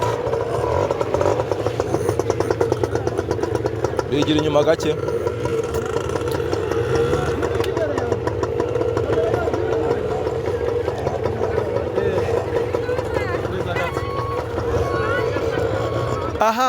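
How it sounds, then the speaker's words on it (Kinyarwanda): A motorcycle engine idles and runs steadily throughout at a riding permit exam, a continuous mid-low drone with a voice speaking over it. "Uvuga ngo tera moto yawe neza hano."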